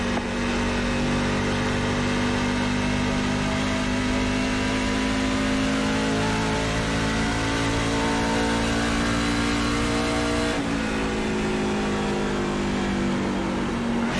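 A NASCAR truck engine at Nashville in the racing game iRacing roars continuously and loudly, its pitch rising and falling through revs and gear changes, with no voices.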